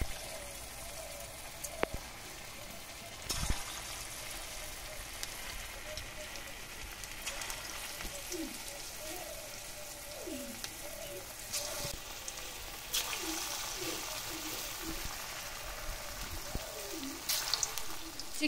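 Small chicken balls sizzle in hot oil, a steady crackling hiss with faint pops and occasional clatters, moderately quiet and continuous with no one talking.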